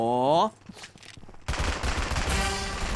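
Rapid gunfire in the Mini World Royale video game breaks out loudly after a brief tonal sound and a short lull, then continues as a dense, rattling volley to the end.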